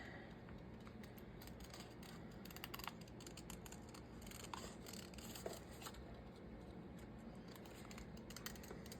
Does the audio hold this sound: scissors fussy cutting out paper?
yes